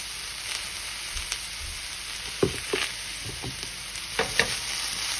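Vegetables for veggie fajitas fry in hot oil in a pan, giving a steady, close hiss of sizzling with occasional clinks and stirring scrapes on top.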